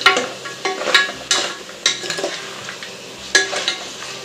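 Mutton frying in oil with ginger paste and turmeric, a spoon scraping and stirring the pan in repeated sharp strokes over a steady close sizzle.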